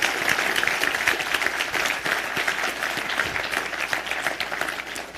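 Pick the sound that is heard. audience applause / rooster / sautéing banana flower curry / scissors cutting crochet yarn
audience applause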